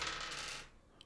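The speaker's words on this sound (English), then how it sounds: "We're going to roll dice to see who goes first" Dice clatter and rattle across a table in a quick burst for about half a second, then fade out, leaving a faint tick near the end.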